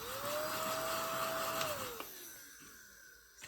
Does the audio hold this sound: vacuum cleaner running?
yes